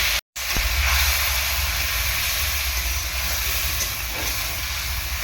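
A little water hits chili, cumin and turmeric frying in a hot pan, giving a loud, close, continuous sizzling hiss that starts abruptly after a short silence and carries on steadily.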